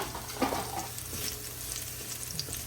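Garlic frying in a pan for fried rice made with day-old rice, a steady close sizzle with occasional stirring scrapes, running alone without talk.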